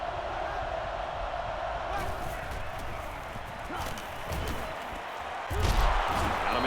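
Stadium crowd roar in the football video game NCAA Football 09, a steady loud wash of cheering and noise throughout, swelling near the end with thumps of on-field action.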